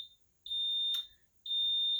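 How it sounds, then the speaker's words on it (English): A house alarm goes off as a smoke-alarm style electronic beeper, sounding two long, shrill, even beeps separated by a short gap, fairly faint and with no talk. "that's the house alarm"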